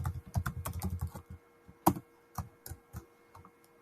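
Fingers type on a computer keyboard nearby, first in a quick run of clicking keystrokes, then in slower, scattered taps and one louder key press.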